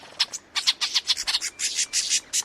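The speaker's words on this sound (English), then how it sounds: "it perfectly reproduces the alarm calls made by a mobbing flock of birds" Birds in a mobbing flock give harsh, rapid alarm calls, a run of about a dozen loud, bright, scratchy bursts in quick succession.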